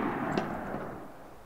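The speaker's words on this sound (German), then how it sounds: "du hast ja in die Luft geschossen" A single gunshot in the video game Trouble in Terrorist Town, fired into the air: a sharp, loud crack near the start that decays into a rumbling tail, with no talk.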